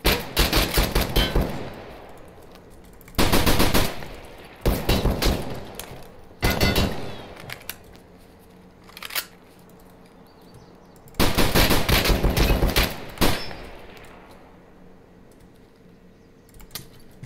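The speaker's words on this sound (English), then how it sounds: "This is an assault rifle?" Assault rifle gunfire in the Escape From Tarkov shooter game, heard as several loud rapid bursts of automatic fire with quieter gaps between them.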